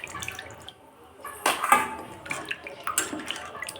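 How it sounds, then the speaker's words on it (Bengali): Raw chicken pieces rinsed by hand under running tap water in a home kitchen, with irregular splashing and gushing bursts that swell and fade, moderately close, with no one talking. "আর তার জন্য দেখো আমি চিকেনগুলো ধুয়ে নিচ্ছি।"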